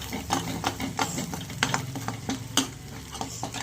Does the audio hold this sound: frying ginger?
yes